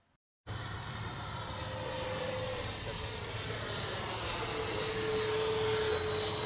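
A small jet engine of a Freewing MiG-29 Fulcrum model aircraft whines steadily after a brief silence, a high thin tone holding with a broad roaring hiss that slowly grows louder.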